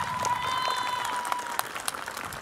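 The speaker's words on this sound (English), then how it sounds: "Can we please give her a round of applause" Audience applause at a law school commencement ceremony, a dense wash of clapping with a few sharper claps standing out, steady and moderately loud across the hall.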